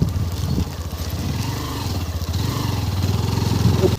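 Motorbike engine running steadily while riding a rough off-road trail to the Barkana view point, a continuous close mid-pitched drone with slight revving swells and no talk.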